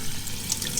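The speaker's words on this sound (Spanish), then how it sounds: "Ahora debemos enjuagar el arroz muy bien" Water runs from a kitchen tap while rice is rinsed in a sink, a brief, soft, steady rush with small splashes and no voices.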